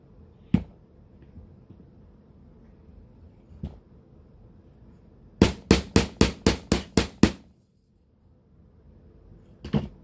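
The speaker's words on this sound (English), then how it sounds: "flatten the ends with the chasing hammer." A chasing hammer flattens the ends of jewelry wire for an S-clasp: a few isolated sharp taps, then a quick run of about eight crisp, evenly spaced strikes, and two more taps near the end, close and clear.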